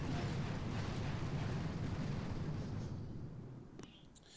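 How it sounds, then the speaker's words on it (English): Barrage explosions pound a minefield in the mobile strategy game Boom Beach, a dense continuous rumble of blasts that fades toward the end, followed by a couple of sharp distant pops. "what I'm going to do is barrage over here just to clear out some of these mines"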